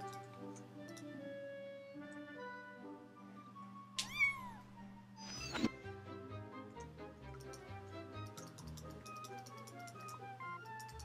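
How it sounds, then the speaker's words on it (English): Cat meowing in the video game Jazzpunk: two distinct meows rise out of a bed of ticking and tonal game music, the second louder and more drawn out, with no talking. "Oh my god, I'm a cat."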